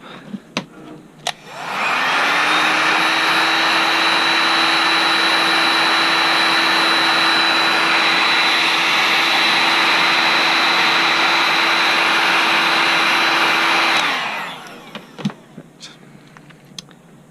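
A heat gun heating heat-shrink tubing on lightsaber wiring roars steadily and loudly as it spins up, holds an even whine for about twelve seconds, then winds down, with faint handling clicks before and after.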